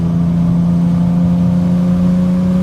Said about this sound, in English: You add the side exhaust with headers that sounds fantastic.